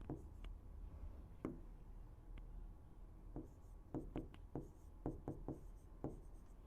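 Pen or chalk scratching out writing in a series of short, crisp strokes, some clustered in quick bursts, close and fairly quiet over a low steady room hum, with no talk.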